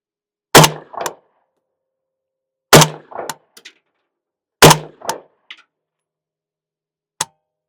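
Three sharp rifle shots from a Galil ARM, each followed by a metallic ring off a steel target, spaced about two seconds apart, with a faint extra ping near the end.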